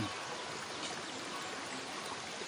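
A clear-water stream flowing near Tugaya: a continuous broad rushing and gurgling wash, close and steady throughout, with no voices.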